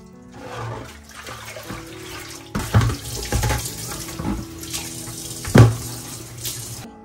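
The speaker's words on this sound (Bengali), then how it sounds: "মোজাগুলো ধুলাম" Socks are rinsed under a running tap, with a steady stream of water broken by irregular sloshing splashes and bumps as the cloth is worked in the sink.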